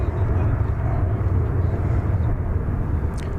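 A Finnair Airbus A350-900 jet arrives from Helsinki at DFW Airport with a steady, loud, broad engine roar that stays constant and close throughout.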